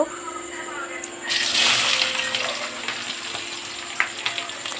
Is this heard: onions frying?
yes